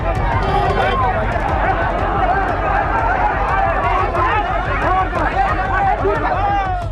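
Agitated crowd at a stone-pelting street protest in Patna, a dense roar of shouting voices and babble with scattered yells, steady and close throughout.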